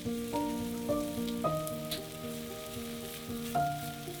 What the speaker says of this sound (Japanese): フライパンに薄く油を引いたら鶏胸肉を焼く。